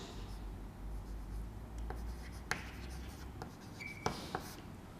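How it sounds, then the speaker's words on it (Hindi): Pen or chalk writing a sentence during a Hindi lesson, soft continuous scratching strokes with a few sharper taps, quiet and close in a room with faint background hum. "मान लीजिए मैं एक वाक्य यहां लिखता हूं"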